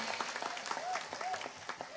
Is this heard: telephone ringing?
no